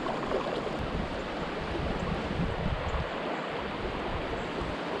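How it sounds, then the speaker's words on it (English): Steady broadband rushing of wind blowing beside the wild Nolichucky River, mixed with constant water wash, loud and unbroken throughout with no talking. "I believe we might get a storm blowing in here soon, the way this wind's picking up."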